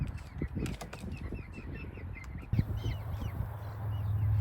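Young Buckeye chickens and a cockerel chirp and cluck in a backyard flock, with rapid high peeping scattered throughout, a few scuffs and flaps early on, and a low steady hum joining partway through.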